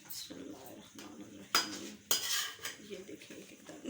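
Chana pulao being served out of a pot, with metal spoons scraping and clanking against the cookware in several distinct strikes and quieter rustling between them, close and moderately loud.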